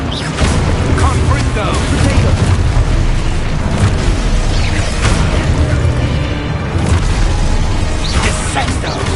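A Confringo fire spell erupts in Hogwarts Legacy amid dense, loud, continuous booms and crackling blasts from combat, with a voice shouting over the chaos.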